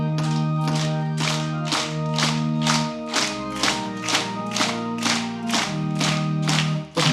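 A church congregation claps in a steady beat while singing Hymn 197, with sharp, evenly spaced claps ringing out over the sung melody and accompaniment.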